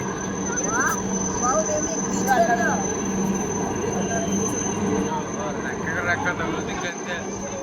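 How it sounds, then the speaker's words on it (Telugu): Steady low rumble of a large naval helicopter at Navy Day celebrations on RK Beach, Visakhapatnam, fairly close and continuous, with people talking over it. "పెద్దదిరా ఇది, ఆ హెలికాప్టర్ పెద్దదే. అదే వస్తుంది."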